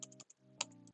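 Quiet typing on a computer keyboard: a quick run of several crisp key clicks within one second, close and soft, with no talk.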